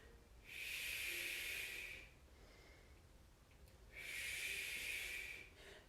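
Two long, forceful hissing exhalations during a live Pilates class, each lasting about a second and a half with a quiet pause between, close and breathy, with no talking.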